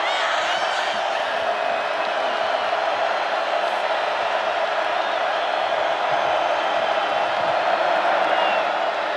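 Dense, steady roar of a large stadium crowd at a college football game between Texas and Oklahoma State, a continuous loud wash of voices with no pauses throughout.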